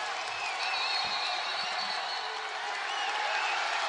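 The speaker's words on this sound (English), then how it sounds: "Listen to this Charleston crowd." A large crowd at a Charleston college basketball game roars steadily throughout, dense cheering and applause with scattered whoops holding at a loud, even level with no break.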